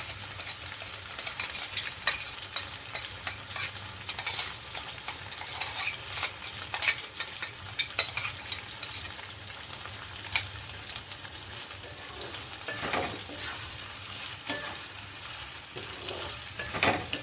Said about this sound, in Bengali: এবার এই মশলাটা আমরা করলাম, পোস্ত, লঙ্কা আর বাদাম দুধ দিয়ে, সেটা এখানে ঢেলে দেবো।